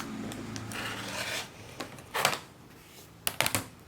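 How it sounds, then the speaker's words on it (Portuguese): A circular patchwork rotary cutter rolls through fabric along a ruler, producing soft broadband rubbing strokes, one long pass then brief scraping bursts near the end, close and fairly quiet with no talk. "Que é um cortador circular normal de patchwork."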